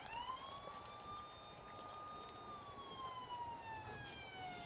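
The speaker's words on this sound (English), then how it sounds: "Siren. Yeah, beautiful siren." A siren played to a dog sounds as one steady electronic wail that swells and eases slowly, loud and continuous with no voices.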